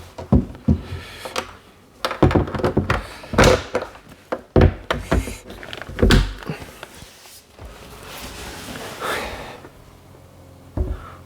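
A router-made shaker style cabinet door on freshly fitted hinges is swung open and shut, giving a series of loud, close thunks, taps and knocks in an irregular rhythm, with quieter handling noise between them.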